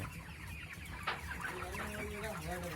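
Broiler chickens in a contract farm shed holding about 2,500 birds cluck softly, with several overlapping calls and a brief sharper squawk rising from a faint, steady background.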